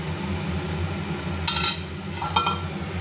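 A lid lifted off a pot of vegetables cooking without spices in a little oil, with two short metallic clinks of the lid over a steady low simmering hum.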